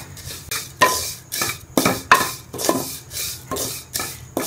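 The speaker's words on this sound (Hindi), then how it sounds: "इसको हमने थोड़ी देर के लिए बस भूनना है।" Vermicelli being roasted for sheer khurma, a spoon scraping and knocking against the pan in a regular rhythm of sharp clanks and rasping strokes, close and clear with no talk.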